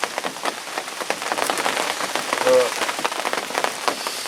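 Heavy rain patters steadily and densely on the surroundings at a lakeside carp fishing swim, a close, continuous hiss of drops with no letup.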